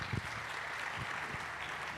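A conference audience at an Africa Day 2025 event gives a brief spell of steady applause, a dense even clapping heard with a voice speaking over it.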